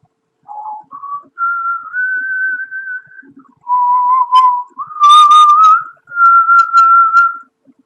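A man whistles a slow, wavering tune in long sustained notes with short breaks, close and clear against silence.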